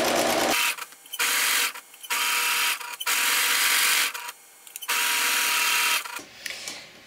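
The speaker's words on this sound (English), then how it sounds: "Now I purposely sewed from the bottom up" A sewing machine stitches apron fabric in bursts of fast, even whirring, stopping and restarting about five times, close and loud with short quiet gaps between runs.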